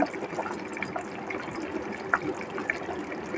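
Soft continuous bubbling and gurgling of water boiling in a pot for biryani, with faint clinks, close and low in volume.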